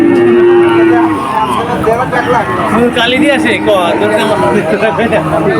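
Cattle at a busy rural cattle market in Bagerhat before Eid sacrifice: a long, steady moo opens, then loud crowd chatter and overlapping voices fill the rest close around.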